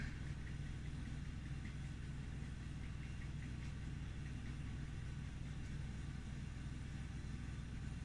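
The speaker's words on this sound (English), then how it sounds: "So what you can hear now is this generator just idling." A generator idles with a steady low rumble and faint knocking, constant and unchanging throughout, with no voices.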